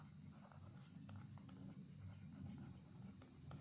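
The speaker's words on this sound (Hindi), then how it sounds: "तो इसमें हम सबसे पहले गिवन लिखेंगे।" A pen writes the word 'given' at the start of a maths solution, making faint, continuous scratching and rubbing on paper, close but quiet.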